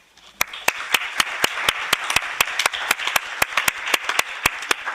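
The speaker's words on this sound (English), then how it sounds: "let's clap for the first panel" Scattered clapping rises from an audience at a young elected politicians' conference panel, sharp individual claps in an uneven rhythm over a soft bed of applause.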